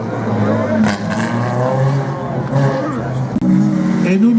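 A Peugeot 206 race car in the F2000 group launches at a slalom in Saint-Lô, its engine revving and climbing through gears, loud and close, under excited French commentary from a speaker.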